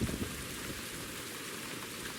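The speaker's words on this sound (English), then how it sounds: "And it started raining." Steady rain hisses continuously on the Pennine Way trail, a dense even patter with no voices, after a brief low thump at the start.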